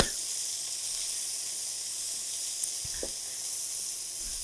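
Onion, garlic and chili sizzle steadily in a hot pan, a continuous bright frying hiss that runs evenly throughout with a couple of faint stirring clinks near the end.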